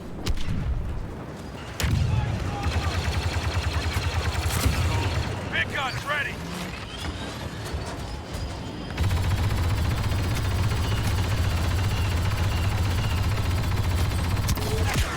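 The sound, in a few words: heavy weapon suppressive gunfire, Star Wars Battlefront II video game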